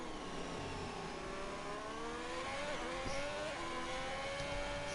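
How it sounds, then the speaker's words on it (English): An F1 race car in F1 2021 revs hard and high. The engine's whine climbs steadily, dips briefly at each upshift and climbs again, loud and continuous with no talk over it. "extremely high revs here before shifting up"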